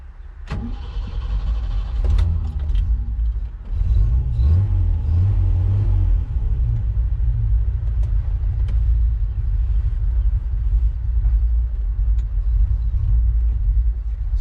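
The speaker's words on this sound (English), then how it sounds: "we'll fire it up, we'll take it for a ride." A 1968 MG C GT sports car engine, not fully warmed up, turns over, catches and settles into a loud, steady low rumble that continues close by with a slight rise in revs.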